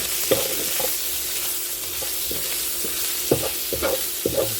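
Brussels sprouts fry with bacon in a pan, giving a constant loud sizzle and hiss, with occasional utensil knocks and scrapes as they are stirred.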